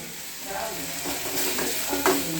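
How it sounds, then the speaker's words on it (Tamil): Chopped moringa leaves with onion and dried chili being stir-fried in a pan, a soft continuous sizzle with scraping and stirring strokes, close and moderately quiet, with no talking. "சின்னதாக கட் பண்ணி வெங்காயம் போட்டு காஞ்ச மிளகா போட்டு வறுத்து வச்சுருக்கேன்"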